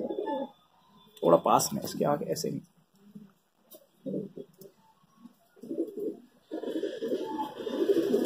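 Pigeons gathered for flying cooing in short, separate bursts at close range, with people talking between and over the calls.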